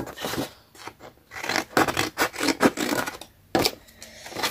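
Scissors cut a paper square for a handmade card, with a run of close, crisp snips and rustling strokes in an irregular rhythm, then a short pause and another cut.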